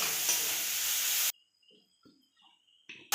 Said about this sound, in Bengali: এবার নাড়াচাড়া করে ভেজে নেব।